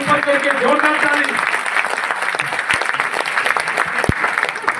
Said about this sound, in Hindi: दोनों ऊपर करके जोरदार ताली